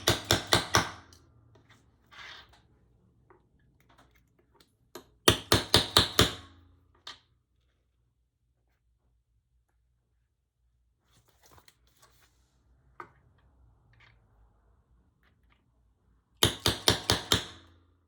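Hammer striking a hand setting tool on a leather snap dome, three quick bursts of four sharp metallic blows each, close and crisp, separated by long quiet gaps with small handling taps.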